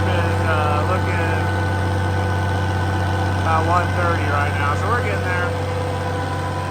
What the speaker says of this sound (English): I idled the tractor up to PTO RPM and loaded it some